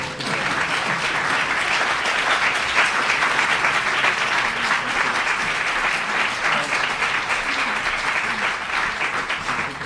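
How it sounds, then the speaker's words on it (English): An audience applauds a prize award with dense, sustained clapping at an even level throughout, no single hand standing out. "this is when you clap"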